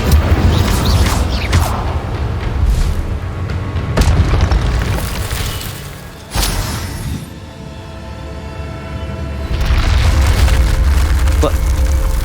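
Incendio fire spell in the video game Hogwarts Legacy booms and roars in heavy blasts with crackling rumble, loud and close, swelling and fading over a continuous low roar.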